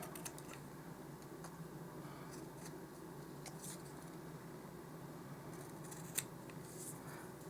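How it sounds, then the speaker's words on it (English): Scissors snip excess material off the bottom layer of a small handmade doll s'more: faint, sparse cutting clicks in a quiet room, with no talking. "it's time to trim off the extra on the bottom layer"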